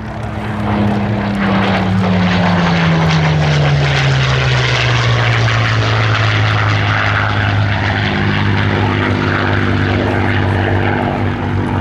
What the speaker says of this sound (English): The Grey Spitfire